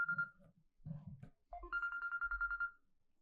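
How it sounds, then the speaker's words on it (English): A phone ringtone sounds during a live show. Brief tones and a short melodic phrase are followed by a sustained repeating ringtone pattern that plays alone for about a second and a half. "Excuse me, I have a phone call."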